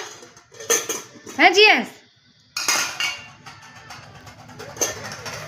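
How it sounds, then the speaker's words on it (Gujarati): A child bangs and rattles metal cooking pots and utensils at home, making close, loud clanks and scrapes in irregular bursts with quiet gaps, and a voice speaks briefly. "રમે છે વાસણથી"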